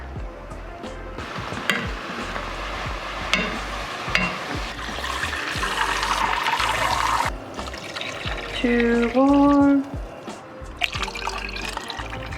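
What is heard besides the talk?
water poured into a soup pot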